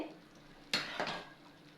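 Sweet potato kheer thickens in a pot while a spoon stirs it, giving two soft scraping clinks against the pot over a faint background.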